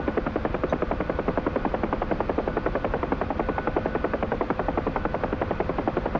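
Steady, loud helicopter rotor thrum in a flight video game, a continuous rapid chopping pulse with engine whine holding evenly throughout, no talk over it.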